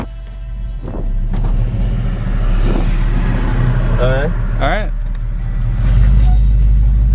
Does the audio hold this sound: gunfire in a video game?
no